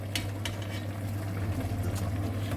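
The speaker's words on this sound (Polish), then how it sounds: "Zmniejszamy też ogień, bo one mają się dusić ładnie, a nie gotować mocno." Pork ribs stewing gently in a pot of water over lowered heat, giving a steady low bubbling simmer with a constant hum underneath and a few brief clinks, with no talking.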